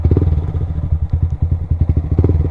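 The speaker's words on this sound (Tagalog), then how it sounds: "Saan kaya tayo magpaparada ng motor?" A motorcycle idles close by while it is parked at a rocky hilltop house, its engine thumping in a quick, rough, uneven rhythm, loud and low.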